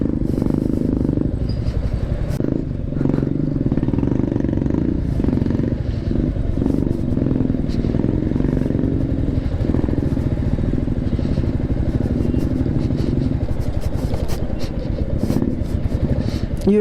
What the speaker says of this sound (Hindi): इधर देखो फंस फंस के जा रही है बाइक